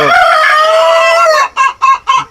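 A rooster in a backyard flock of hens and five roosters gives one loud, drawn-out crow nearby, followed by three short, sharp clucking calls.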